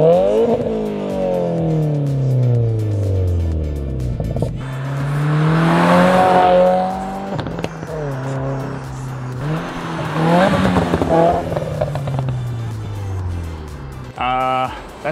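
A Subaru WRX, stage two with an Invidia R400 catback exhaust, Grimmspeed catted downpipe and stock intake, revs repeatedly, the engine note rising and falling close by with short blips near the end, while someone talks over it.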